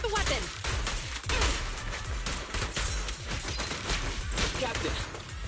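Gunfire in the video game Zenless Zone Zero, dense rapid bursts of shots and impacts layered with game effects and spoken dialogue, loud and continuous through the whole stretch.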